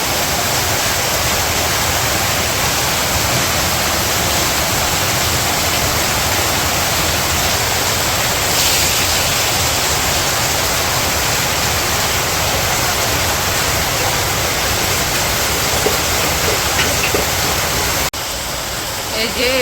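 Heavy rain pours steadily on a village during a windy storm that has flooded the yard, a dense, unbroken hissing roar that stays loud throughout.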